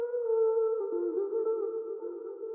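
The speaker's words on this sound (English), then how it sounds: "so I'm adding this like single vox chop that I found in some random pack" A single vocal chop sample from a sample pack, used in a chill R&B trap beat: a sustained, pitched, wordless vocal tone held for a couple of seconds, clear and alone with nothing behind it.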